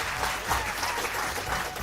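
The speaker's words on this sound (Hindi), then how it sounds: "एक बार तालियों से इन बच्चियों का हम उत्साह बढ़ाएंगे" Steady, dense applause from an audience at an event in Delhi cheering tribal and forest-dwelling girls, an even wash of many hands clapping close by, unbroken for the whole stretch.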